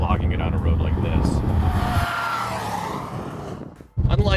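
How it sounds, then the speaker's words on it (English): A 2013 Bentley Continental GT V8 pulls hard on a winding road, the engine roaring loudly, then easing off briefly before surging again, with a voice speaking over it. "Once you tap into the power of this V8, you really feel the difference between just pussyfooting around the highway and flogging it on a road like this"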